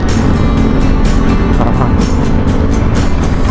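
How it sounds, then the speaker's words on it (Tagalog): Loud motorcycles and scooters pass close on a steep bypass road, their engines droning and whooshing by in quick succession amid constant road and wind noise. "Gaano kalakas sa akin yung kanilang mga motor"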